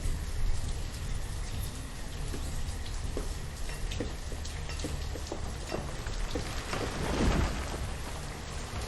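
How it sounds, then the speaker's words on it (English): Steady rain in the city-building game Banished during a wet spring, a constant dense patter with occasional sharper drops and a low rumble swelling near the end, heard alone at moderate volume. "It's been raining the entire time."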